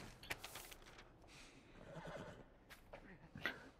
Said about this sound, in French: Reste avec le cheval.